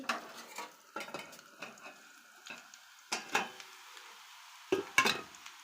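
A spoon stirs potato fry in a pan with a run of separate scrapes and light metallic clinks, quiet and spaced irregularly, with faint sizzling and no talking.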